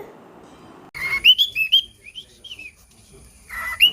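Birds call in a series of bright whistled chirps and tweets, close by, in short bursts with brief quiet gaps between them.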